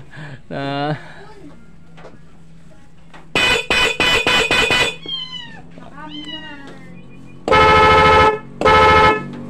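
A stock car horn honks in several loud, blaring bursts: a cluster of short beeps, then two longer sustained blasts, with brief clicks and tones between.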